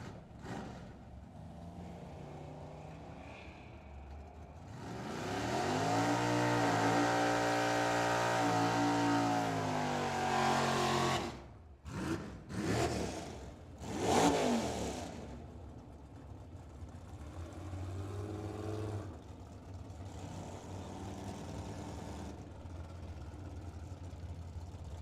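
A Camaro drag car at Firebird Raceway in Phoenix launches and roars loudly down the strip for several seconds, then its engine note fades and drops to a low rumble in the distance.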